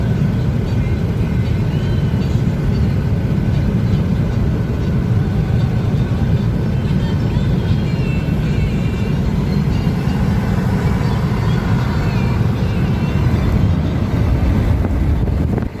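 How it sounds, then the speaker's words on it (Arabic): Strong wind roars steadily and loudly into the microphone throughout, a constant heavy buffeting with no breaks, on the Ben Ahmed–Casablanca motorway in Morocco. "رياح قوية."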